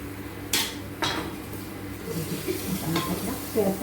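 Finely chopped onions and garlic frying in a pan for rasam: a steady sizzle under repeated sharp scrapes and knocks of a spoon against the pan, close and fairly loud.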